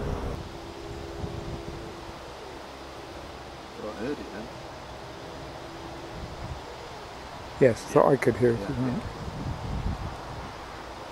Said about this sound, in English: It's a little windy at the minute.